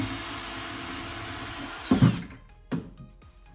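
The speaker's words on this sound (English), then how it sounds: "Okay, we're ready to drill the holes" Power drill boring holes in a side table during a makeover: a steady whine runs for about two seconds, then two short loud bursts follow as the bit bites, fairly close with no talk.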